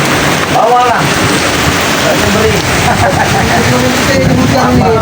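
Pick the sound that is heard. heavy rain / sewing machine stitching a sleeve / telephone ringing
heavy rain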